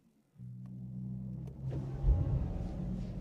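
Mercedes-Maybach SL 680 with a 4-liter twin-turbo V8 starting from silence into a steady deep rumble, then swelling louder as the car pulls away.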